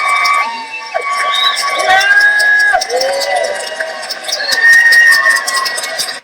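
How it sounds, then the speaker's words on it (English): A live audience at the Politicon 2019 debate stage cheers and whoops for Kyle Kulinski, with loud overlapping shouts and rising, falling yells over a crowd roar that stays strong throughout. "give a big round of applause for the host of the Kyle Kulinski Show"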